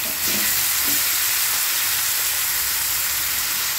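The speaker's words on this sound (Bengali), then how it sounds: "এবার এটাকে বেশ কিছুক্ষণ ফ্রাই করতে থাকবো।" Chicken sizzles steadily in a hot pan while cooking for Begmati chicken, a loud, continuous close-up frying hiss with no one talking.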